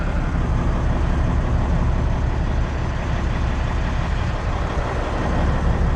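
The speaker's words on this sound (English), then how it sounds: "The truck's fully warmed up, sits at about 35 psi idle, hot idle." A 1998 Freightliner Classic XL truck engine, fully warmed up and sitting at hot idle, gives a steady, loud, low diesel rumble that holds even throughout with no talking.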